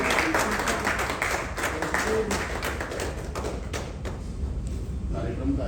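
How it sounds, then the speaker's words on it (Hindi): Clapping from a seated audience at a stage program, a busy patter of hands that holds steady and then thins out toward the end, with some room noise around it. "देव सिंह जी के लिए बहुत जोर से एक बात ताली बजाइए।"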